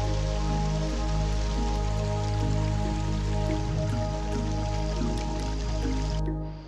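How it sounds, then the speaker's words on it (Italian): Water flows somewhere below in a dense Guatemalan jungle, a steady hissing rush with scattered drips and a low constant hum, unbroken for several seconds with no talk before the high part briefly drops away. "E già si sente il rumore dell'acqua lì giù."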